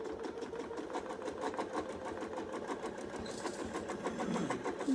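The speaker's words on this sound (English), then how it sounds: "I'll sew out and back." A sewing machine stitches a quilt out and back with a double stitch, giving a steady, close, rapid mechanical whir that runs unbroken throughout with no talking.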